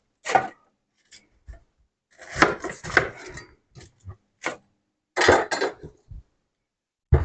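A kitchen knife cuts the leafy top off a pineapple in short, close bursts of chopping and scraping, separated by silent pauses.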